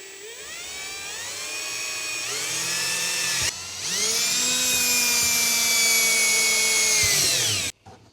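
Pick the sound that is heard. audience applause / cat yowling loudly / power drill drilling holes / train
power drill drilling holes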